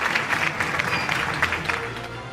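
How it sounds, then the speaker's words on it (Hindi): Audience at an annual news network award show applauding a team, a short burst of dense clapping with a voice faintly present underneath. "Huge round of applause for team city eight 10।"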